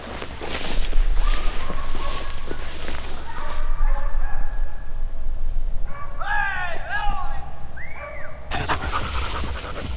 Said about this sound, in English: Oh, 2 mountain ducks.